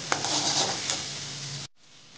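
Chow mein sizzles and hisses steadily as it is stirred in a hot pan with a couple of light scraping clinks, then cuts off abruptly into near silence.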